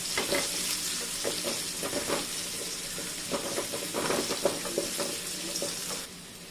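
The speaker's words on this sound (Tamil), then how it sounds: "பூண்டு போட்டு லைட்டாக வதக்கிடுங்க." Garlic sautés lightly in a pan after onions for a vegetarian kuzhambu, heard as a continuous close sizzle with intermittent scraping stir strokes, quieting toward the end.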